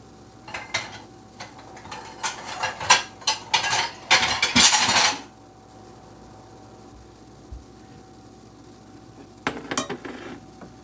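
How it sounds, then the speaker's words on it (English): Dandelion honey being ladled from a pot into a jar in a home kitchen: close clinks and scrapes of a metal ladle against pot and glass, clustered in a busy burst, then a pause and a few more clinks near the end. "So what I'm going to do is get a ladle and get that in the jar."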